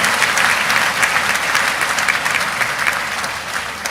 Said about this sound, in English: the President deserves a resounding applause, and please join me in doing so